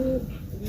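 Soft cooing from a cacah/brintik collector pigeon, a short low throaty call close by, trailing off over a low murmur of background noise.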